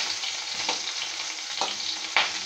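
Peyaju, Bengali onion fritters, frying in hot oil with a steady, close crackling sizzle and a few louder bursts of popping as the batter hits the oil.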